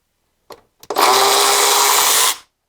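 A Milwaukee M12 Fuel 3/8-inch high speed ratchet spins loudly and close up as it backs bolts off. A couple of brief clicks come first, then a continuous high whine runs for about a second and a half before stopping abruptly.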